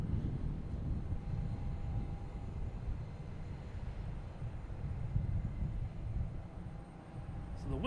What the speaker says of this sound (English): winds have been blowing the entire time. You can hear it in the microphone, just constant